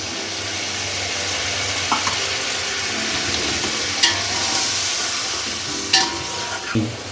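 Cumin and yogurt roasting in a pot for beef pulao, a loud, dense sizzle that carries throughout, with occasional spoon scrapes and knocks against the pot.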